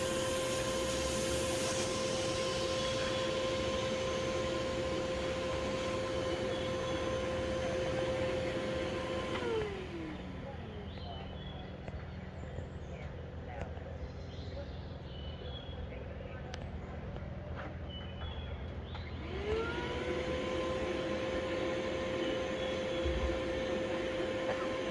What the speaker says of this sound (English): the trick with vacuuming bees is to get that vacuum to where it's just enough to suck them up